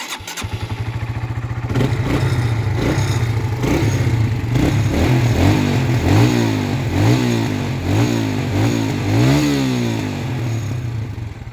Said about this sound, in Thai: เอามาฟังเสียงกันเลย เป็นสตาร์ทมือนะครับ